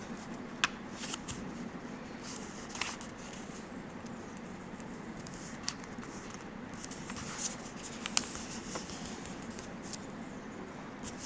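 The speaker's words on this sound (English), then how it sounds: "We have fold the paper at its centers." A sheet of rectangular A4 paper is handled and folded for origami, giving a steady faint rustle broken by a few sharp creases and crinkles, close and quiet with no talking.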